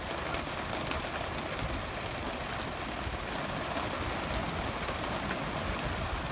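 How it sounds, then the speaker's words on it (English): Steady, heavy rain during an afternoon storm on a farm makes a dense, continuous broadband hiss and patter that stays loud and unbroken throughout, with no voices. "Rain's getting a little harder."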